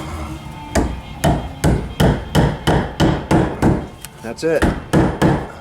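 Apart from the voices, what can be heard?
hammer tapping nails into PEX talon clips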